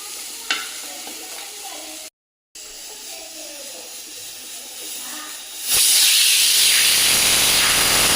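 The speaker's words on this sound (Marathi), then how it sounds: "मी या तव्यातच ही भाजी फोडणीला टाकते" Vegetables tempered and fried in a griddle pan, with a quiet low frying hiss and a sharp tap, then a loud sudden burst of sizzling that continues steadily to the end, close by.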